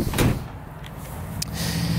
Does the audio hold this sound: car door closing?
yes